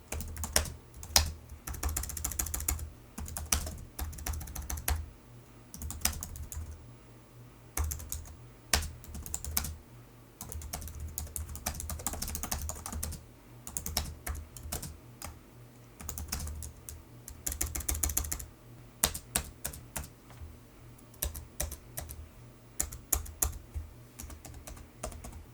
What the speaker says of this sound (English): It has a pretty decent feeling to it, and a pretty nice sound considering laptop keyboards at least.